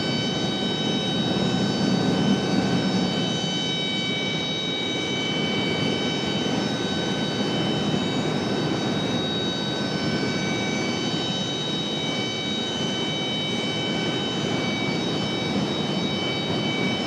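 An Embraer E175 jet departing Raleigh-Durham International Airport, a steady broad engine roar that holds loud and continuous throughout, with no voices.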